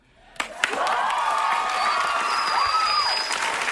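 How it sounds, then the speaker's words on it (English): A live studio audience at Saturday Night Live bursts into loud, sustained applause and cheering after a Spanish-language speech, swelling quickly and holding steady, with a thin whistle running through the crowd noise. "Applause like goes on."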